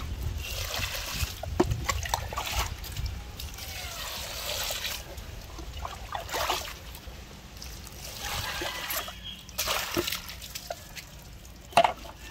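Fresh pechay leaves are washed by hand in water on a free-range chicken farm, with intermittent splashing, trickling and dripping close by, swelling and fading in irregular bursts.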